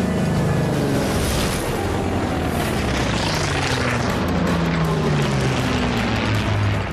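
A German fighter plane's engine roars low over trees at about 560 km/h, a loud continuous droning growl with shifting pitch throughout, close and dominant, no voices.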